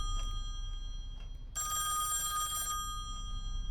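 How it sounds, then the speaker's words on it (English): A telephone bell rings in the horror video game Song of Horror, one loud, sustained burst of bright ringing lasting about a second over a low ambient hum, then cutting off. "The phone."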